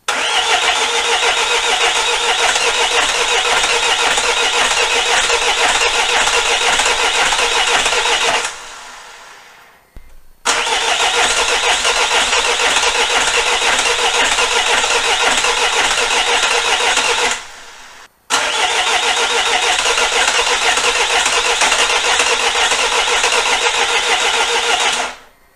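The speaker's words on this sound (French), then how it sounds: "Dans le moteur, enfin dans la voiture, et j'espère que ça va démarrer sans pépin" A diesel car engine cranks and turns over loudly and steadily three times, each long run cutting off briefly before the next attempt.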